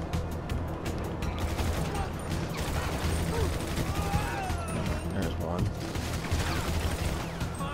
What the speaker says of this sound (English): Of course, he'd have a minigun